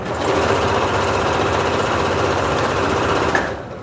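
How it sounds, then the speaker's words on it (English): A sewing machine stitches straight over pins in one continuous loud rapid hum, stopping abruptly at the end. "And I do sew over my needles."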